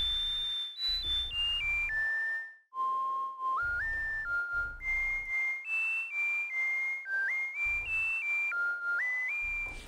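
A pure, synthetic whistle-like lead tone made in the Vital synthesizer plays a stepping melody of sustained notes with slight pitch wobble from fine-tune and pitch-envelope modulation, accompanied by soft rhythmic low thumps.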